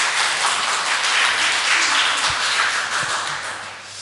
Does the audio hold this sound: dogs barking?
no